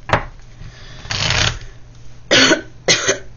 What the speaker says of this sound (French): on a toujours la toux du fumeur le matin